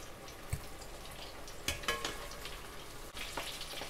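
Scotch eggs fry in hot peanut oil with a steady sizzle and crackle, broken by a few pops and sharp spatters. The sound is moderately close and fairly quiet, with no talking.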